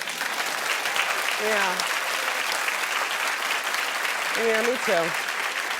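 Studio audience applause on a daytime talk show fills the whole stretch as a steady, dense wash of clapping, with a few brief spoken lines over it.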